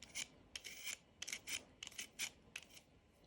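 A julienne peeler scrapes in quick, rasping strokes along a broccoli stalk, a series of close, crisp shredding sounds with brief pauses between, heard alone and fairly quiet.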